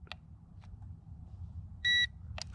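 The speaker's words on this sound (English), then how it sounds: "You should hear a beep." During compass calibration on a ZLL SG908 quadcopter drone, a single short electronic beep sounds over a low background hum, with a few faint clicks around it.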